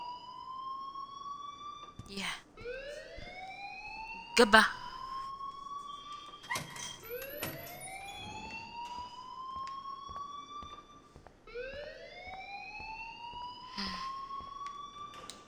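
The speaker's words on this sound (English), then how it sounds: "please turn off that alarm" A school alarm in Life is Strange wails in repeated rising siren sweeps that climb and hold, loud and steady across the scene, with brief spoken exchanges and a short thump over it.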